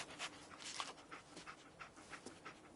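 Dogmeat, the dog companion in the video game Fallout 4, pants in quick, soft, rhythmic breaths, close and steady with no talking over it.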